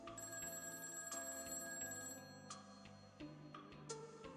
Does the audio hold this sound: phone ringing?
yes